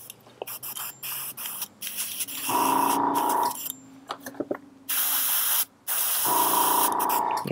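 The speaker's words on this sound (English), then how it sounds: "Let's get our airbrush checked and ready to roll." An airbrush sprays primer onto a Battletech Clan Wolf Mad Cat miniature in three steady hissing bursts of a second or more each, close up, separated by small clicks and quiet pauses.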